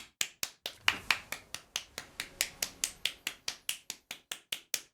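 Steady, evenly paced claps, sharp and close, about four per second for several seconds with no other sound.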